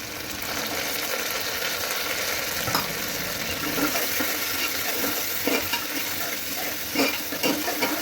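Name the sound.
green peas frying in oil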